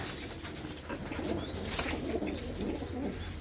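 Pigeons of assorted breeds cooing in a netted aviary, soft low murmuring coos steady throughout with faint wing flutters and ambient noise, close and moderately quiet, no talking.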